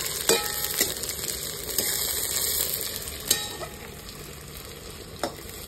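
Onions frying in a pan for a Bengali curry with potato, taro, papaya and duck eggs, a steady soft sizzle broken by several sharp scraping stirs, close up with no talking.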